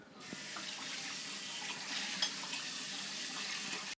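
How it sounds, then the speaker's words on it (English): Tap water runs steadily into a sink while a mixing bowl is rinsed, a continuous close hiss with a few light knocks and clinks, no voices. "always wash your bowl after using it"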